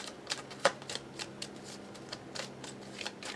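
Tarot cards being shuffled during a reading: a rapid string of soft, crisp riffling snaps at close range, one sharper flick near the start, with no talking.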